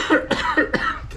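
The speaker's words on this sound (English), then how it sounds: "I know I have the loudest cough in the world." A loud, close cough of a person at home during a paper piecing quilting session, three or four harsh bursts in quick succession, with no talk.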